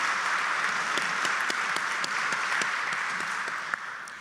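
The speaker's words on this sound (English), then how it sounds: "Join me in a round of applause for Governor DeWine" An audience at a senior citizens hall of fame induction ceremony gives Governor DeWine a sustained round of applause, a dense, steady wash of many hands clapping that carries evenly to the end with no talk.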